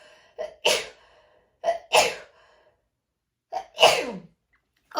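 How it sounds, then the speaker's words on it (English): Three sharp human sneezes from someone with allergies, close and loud, each with a quick inhaled lead-in and separated by short silences. "I sneezed multiple times"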